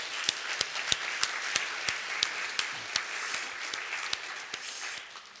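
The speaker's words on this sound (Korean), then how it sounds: "다시 한번 우리 중창단과 우리 하나님께 특별히 영광의 박수 한번 올려드리겠습니다." A church congregation at a Sunday service claps in unison for a choir ensemble, sharp, evenly spaced beats ringing through the sanctuary at a moderate, fairly quiet level, with no talk over them.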